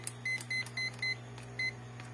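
Multimeter tester set to continuity mode gives five short, sharp electronic beeps in an uneven rhythm over a steady low electrical hum, close and fairly quiet.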